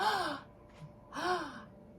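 A person imitates an open-mouthed gasp of respiratory distress: two sharp, breathy inhalations with a voiced catch, close and quiet, separated by a short pause.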